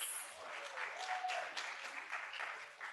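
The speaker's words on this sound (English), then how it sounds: "Another round of applause." An audience claps at a memorial lecture. The applause is dense and steady, heard from a distance and fairly faint, with a few voices mixed in.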